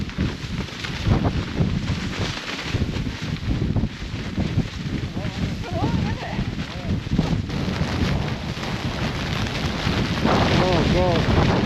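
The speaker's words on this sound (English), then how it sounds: "We've got 50-mile-an-hour winds out there and drifting snow, so we need to get out of here quick." Blizzard winds of about 50 miles an hour buffet the microphone outdoors amid drifting snow, a loud, constant rumbling roar with gusty surges, while a person talks over it.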